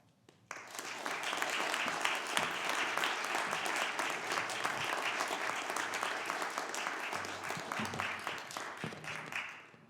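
Audience at the Camden Opera House applauding as folk singer Gordon Bok takes the stage, a full, sustained wave of clapping that rises quickly and holds steady for several seconds before tapering off, with faint voices beneath.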